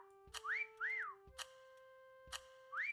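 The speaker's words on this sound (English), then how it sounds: "Would you quit whistling, whoever that is?" Someone whistles faintly in short phrases: held notes and quick rising slides, broken up by soft clicks, with no talk.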